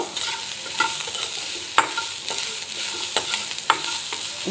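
Onions for a rasam tempering cook in a little oil over a low flame, a soft continuous sizzle punctuated by several sharp spatula scrapes and taps against the pan, with no talking.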